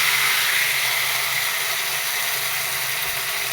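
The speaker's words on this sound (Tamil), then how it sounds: "நல்லா வதக்கிக்கோங்க" Mint, coriander and curry leaves sautéing in a pan over a low flame give a steady, even hiss and sizzle that runs unbroken throughout, with no voices.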